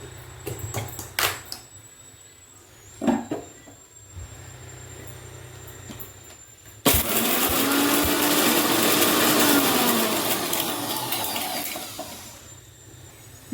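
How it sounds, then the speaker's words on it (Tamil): Kitchen mixer grinder whirring as it grinds black pepper, garlic and cumin for rasam, a loud steady grinding roar starting suddenly midway and running continuously after a few short clicks and handling noises. "நம்ம இந்த மிளகையும் பூண்டையும் சீரகத்தையும் ஒரு ஓட்டு"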